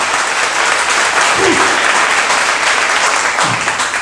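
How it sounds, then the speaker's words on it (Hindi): An audience at a religious talk bursts into loud, sustained applause, dense clapping filling the room from start to finish without a break. "एक अच्छी ताली प्रभु के लिए"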